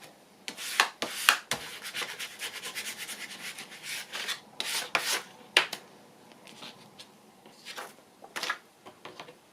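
Repeated dry rubbing and brushing strokes as a hand smooths glued paper onto the back of a collage journal card, in short uneven bursts with brief pauses between them, close and fairly quiet.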